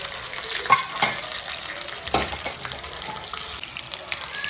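Cumin seeds sizzle and crackle in hot oil for a tadka, a steady frying hiss with scattered sharp pops and no voices.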